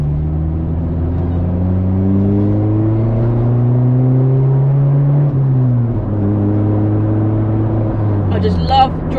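A modified Honda with a loud custom exhaust revs and pulls through the gears, its droning exhaust rising and falling in pitch, loud and close throughout.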